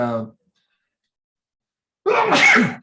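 A single loud sneeze bursts out after a brief moment of speech and a pause of silence.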